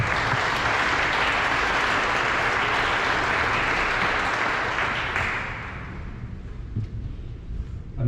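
A graduation audience at Salisbury Academy applauds to welcome a speaker, a dense roar of clapping from many hands that holds steady for about five seconds and then fades to scattered claps.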